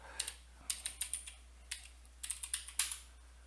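A password is typed on a computer keyboard, a series of light, quick key clicks in short bursts with brief pauses, close and alone in a quiet room.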